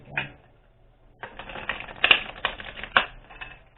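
Tarot cards being shuffled by hand: a brief riffle, a pause, then a longer, close, crisp stretch of rapid flicking and clattering card noise.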